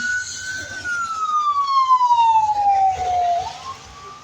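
A fire engine siren passes a bus stop at night, one loud wail sliding steadily downward in pitch as it goes by, with road noise underneath.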